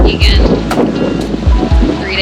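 A sailboat under sail on a close reach with the engine shut off, wind buffeting the microphone over steady surf and water rushing past the hull, with a few low thumps of waves against the boat.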